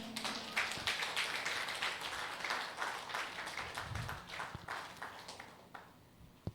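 A church congregation clapping during a service, a spread of scattered claps and taps from many hands that swells, then thins out, heard at a moderate distance in a large room.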